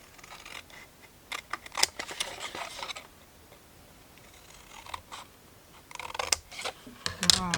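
Scissors snipping through material for a small Easter chocolate bag, a series of crisp close cuts in separate bursts with quiet gaps between them.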